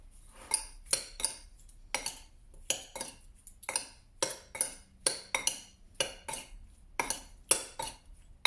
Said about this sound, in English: So we'll mix it all up.